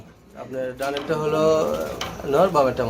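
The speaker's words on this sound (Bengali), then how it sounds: "ব্লু বার্লেস বার্লেস কালার মধ্যে লাহরি কবুতরের জুড়া" Blue Lahori pigeons coo in low, throaty rising phrases close by, a couple of soft calls in a row.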